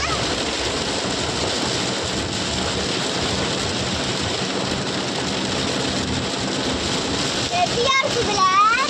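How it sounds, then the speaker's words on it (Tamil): Heavy rain pours onto Nice Road in Karnataka, heard from inside a moving vehicle as a loud, steady broadband roar, with a few brief vocal sounds near the end. "மழை ரொம்ப ஹெவியா இருக்குதுல"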